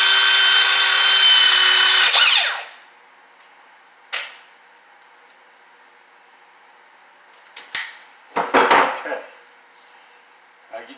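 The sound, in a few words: Milwaukee power crimper crimping a PEX fitting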